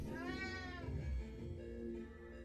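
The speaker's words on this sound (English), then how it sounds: "Oh, hello, cat." A cat lets out one drawn-out meow that rises and falls, close but quiet over a low background rumble, with no speech.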